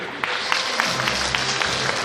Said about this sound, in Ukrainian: Оплески, друзі!